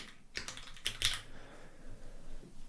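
A computer keyboard is typed on in short quick bursts of clicking keystrokes, nearby and fairly quiet, while code is edited in Xcode.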